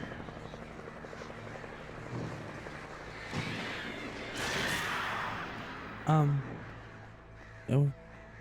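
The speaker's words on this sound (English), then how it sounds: "Oh God, the birds. Birds. Crows." Crows caw in the Alan Wake video game over a low, droning rumble, ending in two loud, harsh caws close together near the end.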